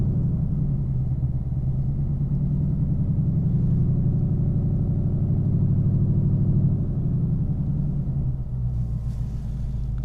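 2019 Mustang GT running a flex fuel tune, engine idling with a steady deep burbling rumble close by, slightly easing off near the end.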